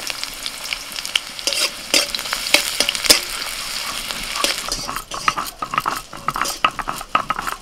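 Chopped onion fries in a pan with dried and green chillies, sizzling steadily while a utensil scrapes and clicks against the pan in irregular stirring strokes, close and fairly loud.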